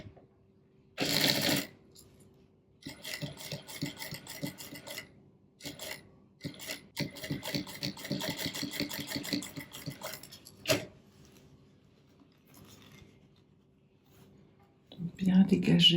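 A sewing machine stitches the collar of a tailored jacket, starting at a corner, in short stop-start runs of fast, close, quiet clatter separated by pauses, with handling rustles between.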